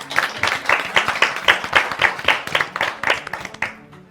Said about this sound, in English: Kindly, a round of applause.